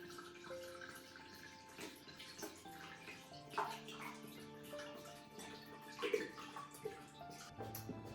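Water is poured into a soup pot on a steamer setup for chicken and vegetable soup, a steady faint splashing and trickling stream with small bubbling and clinks, continuous for several seconds with no talk.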